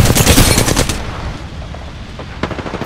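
Automatic weapon fire in the Apex Legends video game: a rapid, loud burst of shots for about a second, then a lower-level tail with a few faint later pops.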